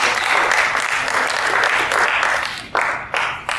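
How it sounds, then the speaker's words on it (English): Sustained audience applause at an annual general meeting, dense and steady, with the clapping tapering briefly near the end before bursts resume. "Let's give ourselves a round of applause for being part of"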